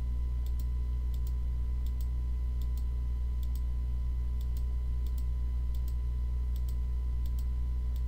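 Mouse clicks to collect a giant oyster in RuneScape 3, sharp paired clicks repeating at a steady rhythm over a constant low hum.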